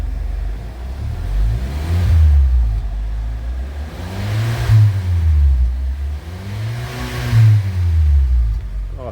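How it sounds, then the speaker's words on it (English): Hyundai i30 with a homemade muffler exhaust revs three times in a row, each swell rising and falling back to idle, close and fairly loud with no talking. "Right, here we are with a few revs going through it."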